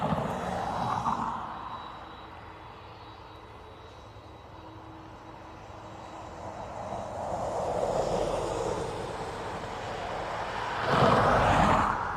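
A Delta Boeing 767 arriving at Dublin Airport, its engine roar swelling, easing off and swelling again from a distance, ending in a louder broadband rush, with no voices.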